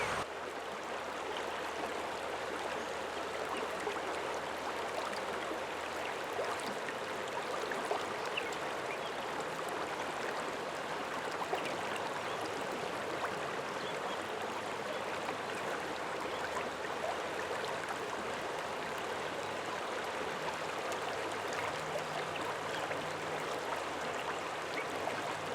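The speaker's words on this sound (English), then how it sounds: "listen to the sound of the water" A stream flowing steadily, a continuous soft rushing and gurgling of water that stays even and unbroken, moderately quiet and close, with no voices.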